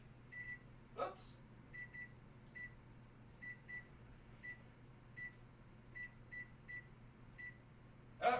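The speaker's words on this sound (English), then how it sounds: "And set the timer on the microwave." Short, quiet microwave beeps sound one after another in an uneven rhythm as timer buttons are pressed, over a low steady hum.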